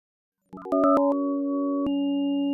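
Synthetic tones, five frequencies per segment, switch on one after another in a quick staggered burst, then hold as a steady layered chord of several pitches.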